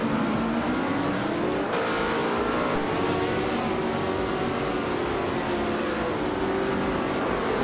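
A 1968 Surtees TS5 race car's engine screams in a racing video game, loud and continuous, its pitch rising and falling with gear changes and throttle, with no talk over it.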